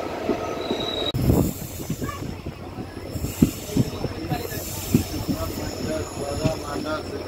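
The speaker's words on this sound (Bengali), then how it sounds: "ট্রেন এখন পুরোপুরি অরুণাচল প্রদেশের সামন দিয়ে চলছে।" The 15813 Dekargaon–Murkongselek Express runs through forested country in Arunachal Pradesh near Gogamukh, a loud, continuous rumble with rhythmic wheel clatter and occasional squeals from the rails.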